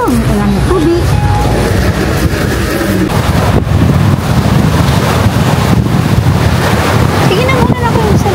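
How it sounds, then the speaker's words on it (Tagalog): Ocean waves breaking on Boracay's front beach, a loud continuous roar of surf with heavy wind buffeting the microphone and voices faintly underneath. "Yan ang lakas ng alon."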